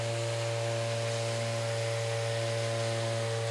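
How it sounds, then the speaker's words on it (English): Makita random orbit sander working on wood, a steady close motor drone with constant tonal hum and broadband sanding hiss, running without pause throughout. "Lovely smooth action on that, just let the sander do the work."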